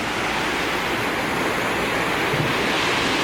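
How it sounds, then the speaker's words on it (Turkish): Loud, steady rush of flowing water, a continuous roar of the Kağızman stream pouring into the Aras River, with no voices. "yanımızdan hemen Kağızman Deresi akarak dökülüyor Aras Nehri'ne"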